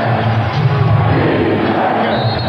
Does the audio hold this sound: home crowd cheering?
yes